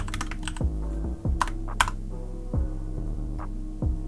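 Keys clatter on a computer keyboard as a folder name is typed, a few quick bursts of close taps over a steady low hum, with no talking.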